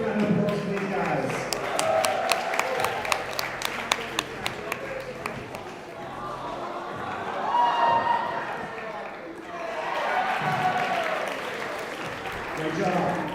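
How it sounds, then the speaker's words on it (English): An audience claps in a sustained round of applause, crowd noise swelling and fading, with a voice speaking over it. "Big round of applause for these guys."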